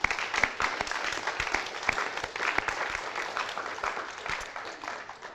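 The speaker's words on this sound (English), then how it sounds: "So please give them a round of applause." Applause at the opening night of the Colorado Behavioral Health and Wellness Summit, given for the event sponsors: a steady, fairly close crowd clapping with distinct sharp claps throughout, tapering off near the end.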